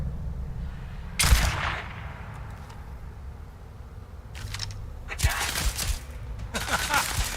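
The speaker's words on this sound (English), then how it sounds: "Let's see how my new sniper rifle does." Sniper rifle shots fired in Starfield ring out as sharp, loud cracks, one early and a cluster of several more later, each followed by a brief rumbling tail over a low background hum.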